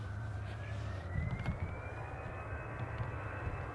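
A jet airliner departing Edinburgh Airport, its engine roar rising steadily as a continuous, fairly loud drone with a slowly climbing whine, heard alone without talk.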